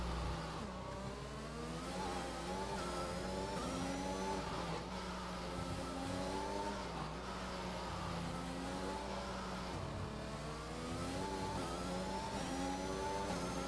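Race car engine in a realistic-tier racing game at the Azerbaijan Grand Prix, revving steadily up and down through the gears for the whole stretch, close and loud with a constant whirring drone.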